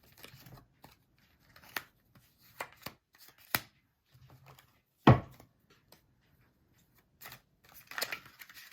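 Tarot cards shuffled and drawn by hand, a string of sparse, sharp riffles and snaps with one louder slap partway through, set against quiet pauses.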